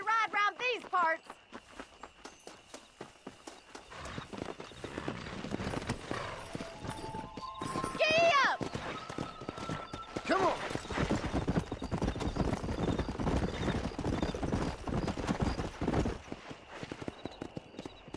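Horse hooves clip-clop steadily on the ground while riding in Red Dead Redemption, close rhythmic footfalls building to a fast gallop, with a brief whinny and voices talking early on.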